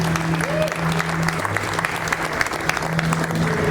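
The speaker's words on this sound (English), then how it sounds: "a round of applause for the product team" Audience applause for a guitar maker's product team at a NAMM press day, a steady dense wash of many hands clapping at close range, with faint tonal hum underneath.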